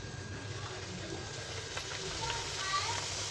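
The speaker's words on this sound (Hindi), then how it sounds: "ये हमारा तेल गर्म है। अब हम इसमें अपनी पूरी डालेंगे" Puris frying in hot oil for a halwai-style potato curry meal, giving a steady, even sizzling hiss close by that holds at a constant level throughout.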